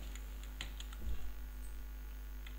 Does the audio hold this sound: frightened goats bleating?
no